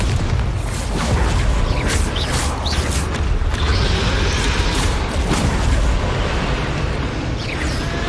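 A Bombarda spell blast in Hogwarts Legacy goes off with a dense, rumbling boom, followed by several seconds of crackling, debris-heavy roar with scattered pops and creaks.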